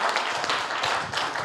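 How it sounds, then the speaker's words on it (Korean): Studio audience at a live public broadcast of a Korean talk show applauding, a dense continuous patter of many hands clapping, steady and moderately loud throughout. "아까 박수 치시려고 하는 분들 좀 크게 한번 치시죠"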